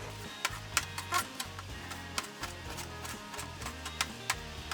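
A knife cuts octopus into halves on a cutting board while takoyaki is prepared at home, giving a run of sharp, close taps and clicks at an irregular rhythm with some kitchen clatter and no talk.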